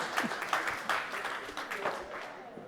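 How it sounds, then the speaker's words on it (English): Conference audience applause at a GROW NY event, a steady wash of clapping lasting a few seconds, moderately loud and fading slightly toward the end, with a voice faintly heard over it. "Come on, guys, clap it up."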